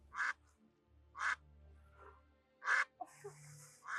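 Duck quacking in a TV episode, three loud, evenly spaced raspy quacks followed by softer calls and a brief tone, heard close and clear over a quiet low hum.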